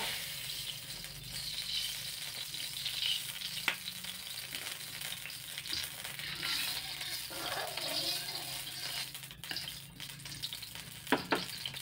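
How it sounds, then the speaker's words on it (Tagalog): Cooking oil sizzles steadily in a hot pan for a Filipino ginataang kamansi, a continuous close hiss with a few small clicks and pops and no talking. "Mainit na ang kawali, and lagyan na natin ng mantika."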